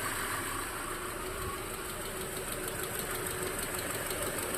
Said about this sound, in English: You can kind of hear the sound of the engine.